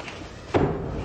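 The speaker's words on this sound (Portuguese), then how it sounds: "E o outro vai chutar a porta, observa ali, quer ver?" During a house fire rescue, a door is kicked, giving one heavy, abrupt thud with a brief rattling tail that stands out against the low background noise.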